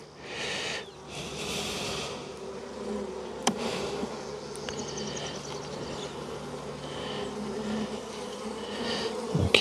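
Honeybees swarm around the entrance of a hive, producing a continuous close, dense buzzing drone with individual bees swelling louder as they pass near, plus a few brief clicks and knocks.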